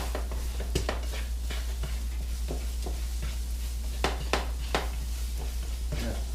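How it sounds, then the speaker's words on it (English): A scrambled egg frying in a pan gives a steady low sizzle, with a few sharp clicks and scrapes of a utensil against the pan scattered throughout. "It's going to fry up pretty fast. Just a scrambled egg."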